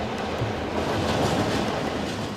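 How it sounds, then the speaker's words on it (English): A train reversing up the mountain line toward Khandala gives a steady, loud rolling rumble of wheels and wagons, continuous and close throughout, with no voices. "The train entered the yard on the lower line and then reversed up the upper line, manoeuvring round the corner."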